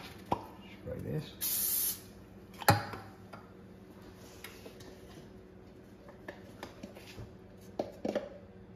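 A short burst of cooking spray hisses for under a second while making pancakes, surrounded by clinks, taps and a person talking nearby.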